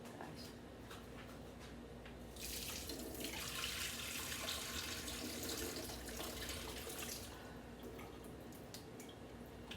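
Tap water runs into a kitchen sink as cooked shrimp are strained and drained, a steady rushing pour that swells louder midway and then settles back to a softer trickle, with no talking over it.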